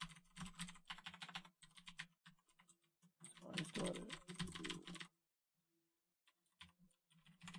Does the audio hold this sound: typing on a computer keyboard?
yes